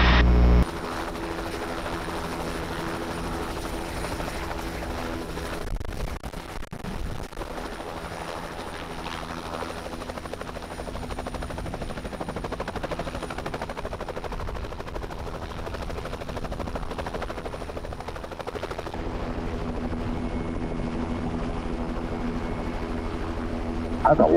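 Bell 505 Jet Ranger X helicopter hovering, heard from inside as a loud, steady turbine whine and rotor drone that continues unbroken for the whole stretch, with no talk.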